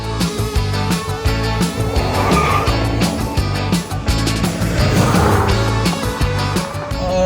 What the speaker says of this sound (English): Okay, so driving the Chevy Silverado.